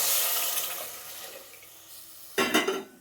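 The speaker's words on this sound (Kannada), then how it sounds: "ಈಗ ನೋಡಿ, ನೀರು ಹಾಕ್ತಾಯಿದ್ದೀನಿ" Water poured into a cooking pot for rice bath, a hissing stream that fades away, then a brief loud splash and slosh near the end, with no talk.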